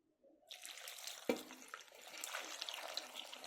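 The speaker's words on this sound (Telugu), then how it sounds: "ఇప్పుడు పులుసు పోసేసుకుందాము." Tamarind extract poured from a container into a pot of Andhra-style mixed vegetable sambar, a soft, close splashing trickle that starts after a brief silence, with one sharp knock midway and no talking.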